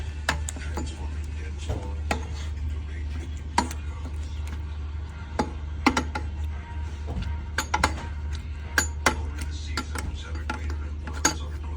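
Ripe tomatoes being mashed through a metal food mill, giving scattered sharp metallic clicks and scraping clanks at an uneven rhythm over a steady low hum, close by.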